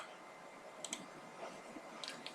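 A computer mouse clicks a few times in a quiet room, short sharp ticks in two small clusters over faint background hiss.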